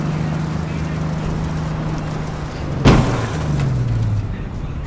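Police car in the video game APB Reloaded, its engine droning steadily up close before a sharp bang at about three seconds, then a falling engine tone as it drives on, with speech-like sounds mixed in.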